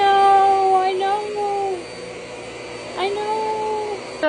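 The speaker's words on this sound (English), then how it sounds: "Charger is scared shitless of the vacuum" A household vacuum cleaner runs steadily and loudly throughout, its whine shifting in pitch as it moves, while a frightened pet skunk is nearby and someone speaks over it.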